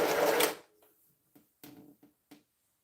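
A sewing machine stitching a quilt strip opens with a loud burst of whirring for about half a second, then goes quiet apart from a few short, separate mechanical clicks and brief runs.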